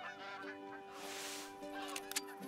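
A flock of geese honks in the hunting game Call of the Wild, overlapping calls layered across the whole stretch with a couple of sharper, louder honks near the end, no talking.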